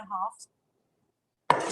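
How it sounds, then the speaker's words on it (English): Fresh ginger being chopped with a knife in a home kitchen. A short voice sound comes first, then a pause, then a sudden close burst of rapid chopping near the end. "I'm going to start chopping my ginger."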